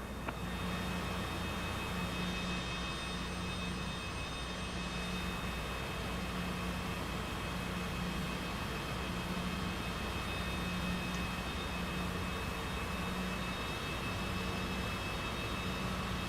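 Airliner taxiing toward general aviation parking in Microsoft Flight Simulator 2024, a constant loud jet engine drone with a steady hum and faint periodic pulsing throughout, no talking.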